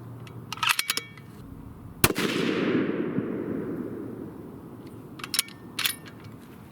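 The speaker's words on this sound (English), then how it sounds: "Gonna be going for the bottom right diamond here." A Bergara Premier barreled-action .308 Winchester rifle firing 175gr Aeromatch bullets at a range: one loud, sharp shot with a long rolling echo, preceded and followed by faint clicks.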